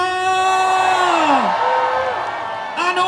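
A crowd at the Birmingham Palestine ceasefire demonstration whoops and cheers for the speakers, with loud, sustained shouts close by and a voice carrying over the noise.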